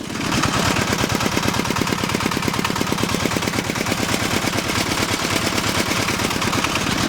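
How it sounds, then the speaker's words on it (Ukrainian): Two 10 hp diesel walk-behind tractors, a Zarya SH-101E and a Vepr 101E, run side by side, their engines hammering out a loud, rapid and steady knocking beat. "зверніть увагу на роботу, на шум двигунів, як вони працюють"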